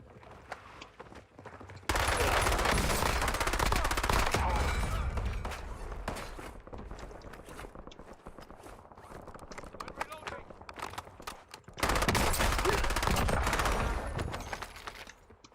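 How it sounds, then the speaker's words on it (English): A burst-fire sniper rifle in Warzone fires two loud, sharp bursts of rapid shots, each followed by a fading tail, with a person talking quietly between them. "It's like a delayed burst fire sniper rifle."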